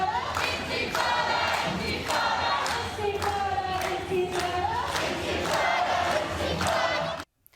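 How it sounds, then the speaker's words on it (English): A large crowd of pro-Palestinian protesters at a university building sit-in, chanting together in loud rhythmic waves that hold steady before cutting off abruptly. "Take a look at the crowds that reportedly included university staff"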